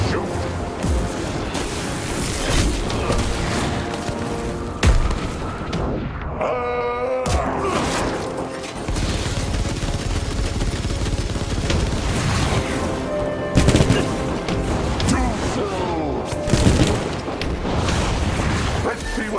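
Gunfire in Evil West, a Wild West action game, lands as a string of loud, booming shots and blasts with a short lull partway through. Dialogue runs between and over the shots.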